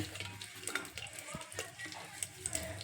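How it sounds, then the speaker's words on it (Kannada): Cinnamon bark dropped into hot oil as tempering for egg biryani, giving a soft, steady close sizzle with light stirring clicks and scrapes throughout, no talking. "ಈಗ ಒಗ್ಗರಣೆಗೆ ಏನೇನು ಹಾಕ್ಬೇಕಂತ ನೋಡಿ ಫಸ್ಟಿಗೆ ಚಕ್ಕೆ ಹಾಕ್ತೇನೆ"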